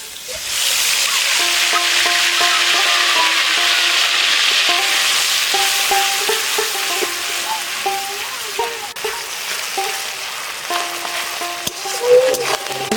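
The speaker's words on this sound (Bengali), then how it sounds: "তেলে দিয়ে দেবো পেঁয়াজ বাটা," Onion paste hits hot oil left over from frying hilsa fish for biryani, sizzling loudly and steadily, with occasional stirring scrapes and faint tonal sounds in the background.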